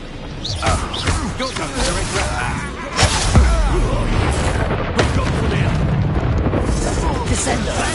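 A Super Bombarda spell in Hogwarts Legacy sets off a loud, heavy blast with a booming surge around three seconds in, followed by rumbling debris and chaotic combat noise that carries on densely to the end.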